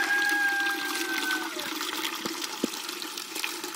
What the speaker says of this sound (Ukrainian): Я беру ось тепленької води і наточу холодної трохи